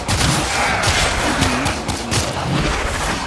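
Dense, rapid gunfire and impact bursts from the sci-fi shooter game Warframe, loud and continuous for a few seconds, with a noisy, chaotic texture of shots layered over one another.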